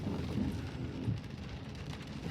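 Steady rain falls in Blackpool near Central Pier, a continuous broadband hiss with low rumbling wind, even and moderately loud throughout.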